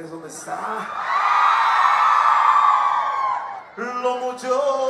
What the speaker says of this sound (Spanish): Y el grito de las mujeres